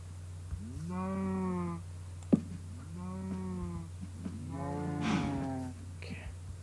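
Minecraft cows mooing in a blocky farm game, three drawn-out harmonic moos in steady succession over a low constant hum, with a brief click between the first two calls.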